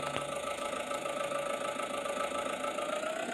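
A tractor engine in Farming Simulator 20 runs steadily, a continuous mid-pitched hum with a faint whine, even and unbroken throughout with no talk.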